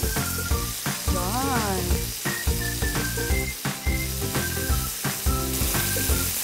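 Garlic sizzles in a hot pan alongside steak, a dense, loud, continuous frying crackle and hiss, layered with music-like tones throughout.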